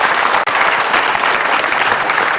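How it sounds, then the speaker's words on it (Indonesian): A seminar crowd applauds with dense, loud, continuous clapping that fills the whole stretch, close and sustained without pause. "tepuk tangan dong buat Pak James B."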